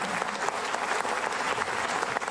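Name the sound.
audience applause for a comedy routine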